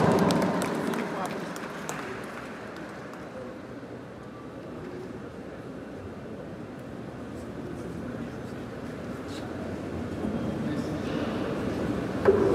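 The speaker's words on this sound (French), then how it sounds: "Un tonnerre d'applaudissements" Audience applause at a university graduation ceremony for the Faculty of Law, Economics and Management in Cap-Haïtien: dense, sustained clapping from a large crowd fills the room steadily for about twelve seconds, with voices mixed in.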